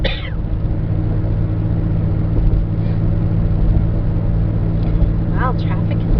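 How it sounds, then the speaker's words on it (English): Road traffic and tire rumble heard from inside a moving car: a loud, steady low roar with a few passing vehicles swelling briefly, and a faint voice in the background. "Wow, traffic is nice today."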